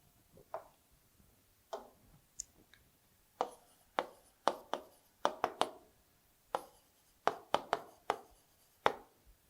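A pen writes on paper, working through a class 3 addition sum. About a dozen short, quiet ticking strokes and taps come at an irregular pace over faint room hiss, with no talking.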